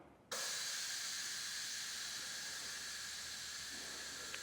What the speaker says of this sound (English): If we lower that back down, you should be able to hear it drain out